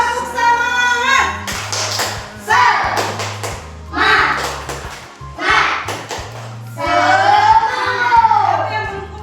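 An Indonesian school class doing a rhythmic spirit clap, with groups of thumping claps set to children's chanting voices, loud and close, in several bursts with short pauses between.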